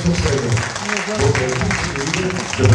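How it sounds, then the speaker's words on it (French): Audience applause at the 2007 Super Mamie contest in Dieppe, greeting a first-time performer on stage: a dense, steady wash of clapping throughout, with a presenter's voice talking over it. "Je crois qu'on peut encore l'applaudir pour toutes ces choses."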